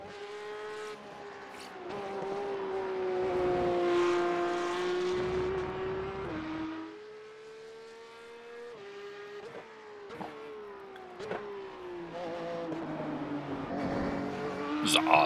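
A Porsche Cup race car in the iRacing game laps the Hungaroring, its engine droning loud and steady, pitch rising and dipping through gear shifts and corners, with brief tire squeal and rumble over the whole stretch.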